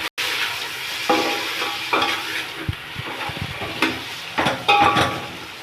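Rice added to a pot of water and stirred while cooking chicken dum biryani, heard as a bubbling, frying hiss with scraping and clinking of a spoon against the pot, close and busy, no talking.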